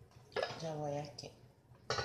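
White rice served onto a plate with a metal utensil: a few soft clinks and scrapes of spoon against dish, quiet and close, while someone talks.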